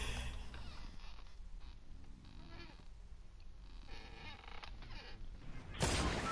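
A door creaks slowly through a quiet indoor room, its drawn-out groaning squeak rising and falling for several seconds before a louder bump near the end.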